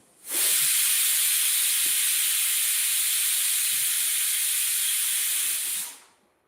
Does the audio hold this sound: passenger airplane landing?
no